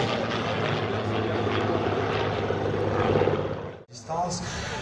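Propeller warplanes, a Spitfire and a Messerschmitt 109, roar past at the La Ferté-Alais airshow, a loud continuous engine drone swelling as they pass, with a voice talking over it.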